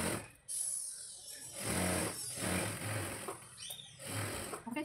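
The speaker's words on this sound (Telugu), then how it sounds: "అసలు ఫ్యాబ్రిక్, సాటిన్ ఫ్యాబ్రిక్, కాటన్ 3 వేసేసి కుట్టేసేస్తున్నా." A sewing machine stitches through three layers of original, satin and cotton fabric for a frock, with quick rhythmic needle bursts broken by short pauses, fairly quiet and close.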